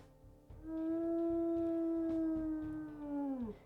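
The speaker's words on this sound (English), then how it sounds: "we'll listen to her howls" A female wolf, a timber wolf, lets out one long, steady, deep howl that holds its pitch before sliding down at the end, clear and fairly close over faint background noise.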